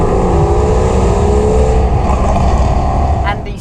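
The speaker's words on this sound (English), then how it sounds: "you can seriously hear the exhaust in Andy's car" Porsche exhaust droning from inside a moving car, a loud, steady low rumble with road noise filling the cabin throughout, with a brief rattle near the end.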